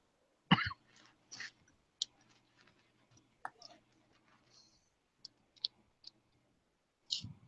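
A man with a lingering cough gives one sharp cough, then a few softer coughs and small throat sounds, scattered among quiet clicks and pauses, close to the microphone.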